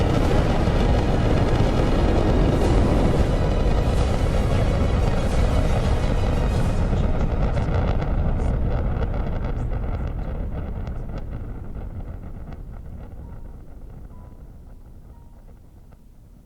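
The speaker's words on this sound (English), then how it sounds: "All 4 RS-25 engines on the core stage and 2 solid rocket boosters now propelling the vehicle at 128 miles per hour" A rocket powered by four RS-25 core-stage engines and two solid boosters lifts off in a broad, continuous roar that is loud at first and then slowly fades as it recedes.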